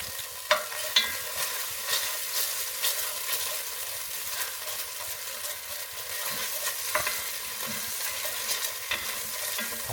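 Thai red chicken curry paste cooks on low heat in a pan, a soft steady sizzle broken by occasional scrapes and taps of a spoon stirring.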